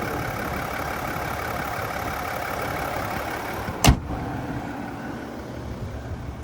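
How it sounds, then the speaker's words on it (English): The Duramax diesel engine of a 2025 Chevy Tahoe RST idles with a steady, even rumble, heard from outside near the front. A single sharp click sounds partway through. "there's that Duramax diesel"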